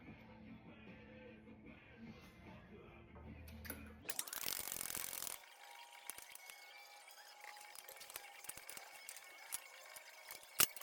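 A socket ratchet clicks away on a Hemi eTorque bearing on a Dodge Ram, with a short harsher burst of mechanical noise followed by quieter scattered ratcheting and metallic clinks, close by with no talk.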